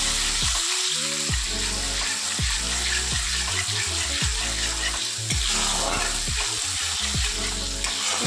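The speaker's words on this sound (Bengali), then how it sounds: "কড়াইতে আমি তেল দিয়েছি তেল গরম হয়ে গেছে এবার কালো জিরে ফোড়ন দিয়ে দিচ্ছি সাথে দুটো কাঁচা লঙ্কা চিড়ে দিচ্ছি" Black cumin seeds and slit green chillies crackle and sizzle steadily in hot oil in a kadai, a dense continuous frying hiss with intermittent stirring clinks and scrapes.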